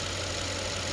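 Mercedes S550 car engine idling steadily after a hydrolock repair, a close, constant low hum with a faint rough pulse, brief and unbroken.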